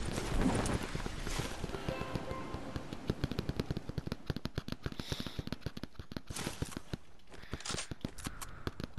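Rapid gunfire from the player's favorite gun in Fortnite, heard as a long string of quick, sharp, evenly spaced reports, continuous and fairly close, with a few short gaps and no talking.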